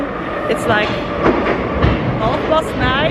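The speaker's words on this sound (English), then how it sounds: "We had dinner and now we're back in the metro." A Paris metro train riding on the rails at night, with a dense rumble and rhythmic rail clatter and faint wheel squeals close by throughout, and a person speaking briefly over the noise.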